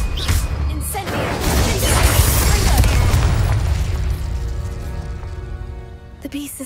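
A fire spell called Incendio bursts in Hogwarts Legacy with a loud, booming blast that rolls out and fades over several seconds, and a voice speaks around it.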